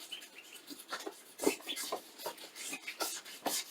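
A brush dipped in acetone is scrubbed into the cracks of an old table being upcycled, giving repeated soft scratchy rubbing strokes in short uneven bursts, close and fairly quiet, with no talking.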